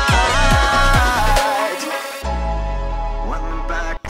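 Electronic music plays with a soft downer transition effect sliding down in pitch, heavy bass and a rhythmic pattern before dropping into a sustained low section, loud and close with no talking.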